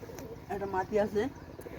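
Pigeons kept for sale, including a hen, coo in a few soft rolling phrases, close by and moderately loud, with low background noise and no clear talk over them.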